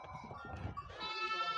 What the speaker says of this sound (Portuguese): é muito bonita, é muita cabra